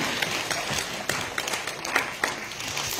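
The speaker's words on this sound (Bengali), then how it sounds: "ভালো লাগলে একটু হাততালি চাই" An audience claps steadily throughout at a public gathering in Siliguri, a dense, close patter of many hands with sharper individual claps popping out here and there.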